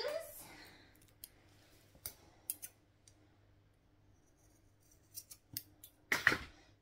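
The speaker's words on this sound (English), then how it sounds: "We need some scissors." Scissors snip through 11 mm rope close by, with a series of sharp, separate clicks and cuts scattered across the quiet and a final burst of snipping at the end.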